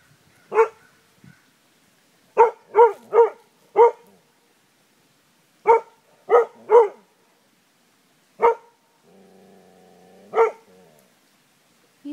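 A dog barks at cows in short sharp single and double barks spaced by silences, close and loud, with a faint low whine between the later barks.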